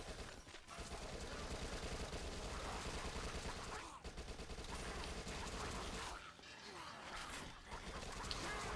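Rapid SMG fire in the zombie shooter Dead Nation rattles loudly and almost without pause, with brief gaps between bursts and voices talking faintly underneath.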